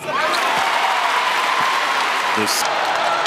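A basketball arena crowd applauds steadily at a Wake Forest vs North Carolina men's game. The loud, continuous clapping and cheering fills the whole moment while a commentator talks over it.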